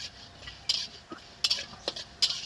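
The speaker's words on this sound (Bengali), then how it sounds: "1 চামচ মৌরি, 1/2 চামচ জিরে ও 1/2 চামচ ধনে ভেজে নেব।" Fennel, cumin and coriander seeds dry-roasting in a kadai over low heat for a raw mango pickle spice mix produce quiet, irregular scrapes and metallic clinks as the seeds are moved, with brief gaps between.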